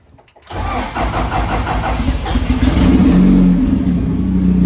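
Honda H22 engine cranking briefly and then firing up, settling into a loud, steady idle that rises slightly, heard close with no talk.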